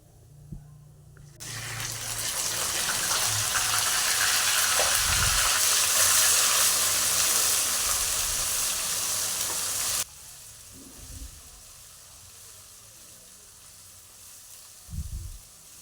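Ground curry leaf paste hits a pan and fries with a loud, steady sizzle for several seconds, then drops abruptly to a quieter simmer with a few low clunks of stirring.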